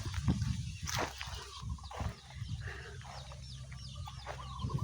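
Hens clucking close by in short, uneven bursts, with other birds chirping faintly in the background.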